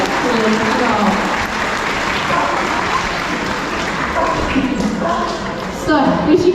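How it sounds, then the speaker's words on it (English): An audience at a safari park sea lion show gives a round of applause, a steady crackling wash of claps under ongoing talk from a presenter. "give him a little round of applause"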